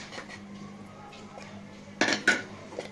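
Spoon scraping and clinking in a pan as spices are stirred into a fish curry, with two louder metallic scrapes near the end over a low steady hum.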